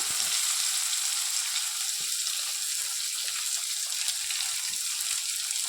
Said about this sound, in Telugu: వీటితో పాటు నేను కట్ చేసి పెట్టుకున్నటువంటి 2 పెద్ద సైజు ఆనియన్స్ని వేసుకుంటున్నాను